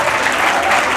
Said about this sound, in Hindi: एक बार इनके लिए जोरदार ताली।